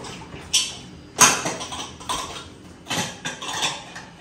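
Dishes being washed with soap at home: clinking steel utensils and pots knock against each other in irregular bursts, with scraping and clatter close by.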